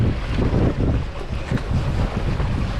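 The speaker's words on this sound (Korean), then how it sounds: "높은 너울이나 강한 바람도 시간이 갈수록 잦아들 기미는 보이지는 않고" Strong wind roars over a fishing boat at sea in high swell, with waves sloshing and wind buffeting the microphone in loud, uneven gusts.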